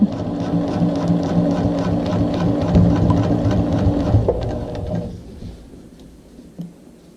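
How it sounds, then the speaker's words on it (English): A sewing machine back stitches a zipper pocket, running as a steady close mechanical whir for about five seconds before stopping, followed by quieter handling sounds. "Just going to back stitch a little bit."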